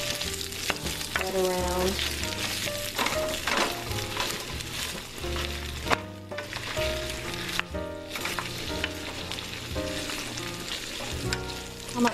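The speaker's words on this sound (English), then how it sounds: "I'm just going to stir them around to get all that nice sausage oil" Sausages sizzle and fry steadily in a hot oiled pan while being stirred around, with scraping clatters of the utensil over the continuous crackle; a few brief words are spoken.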